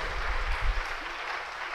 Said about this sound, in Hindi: तालियां आप ज़ोरदार बजाइए ताकि आवाज़ से महसूस हो।